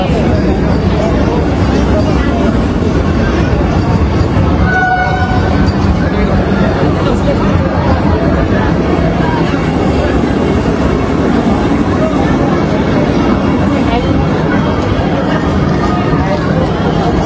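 Interior of a Vande Bharat Express coach running from Katra toward Kashmir: loud continuous rumble and rail rattle with passengers talking in a steady murmur and a brief tonal chime partway through.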